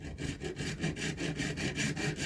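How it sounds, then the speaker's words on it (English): A senior hacksaw cuts through a 3D printed plastic helmet in quick, regular back-and-forth strokes, close and fairly quiet. "Senior hacksaw, not junior."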